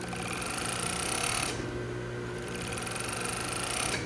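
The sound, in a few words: serger overlocking the edges of dress fabric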